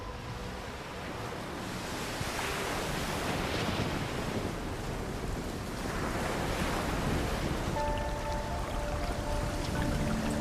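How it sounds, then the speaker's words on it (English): Stormy, fast-rising ocean waves crashing continuously, with roaring surf and gusting wind in loud, dense swells and no voices. "Huge icebergs carve into a stormy and fast-rising ocean."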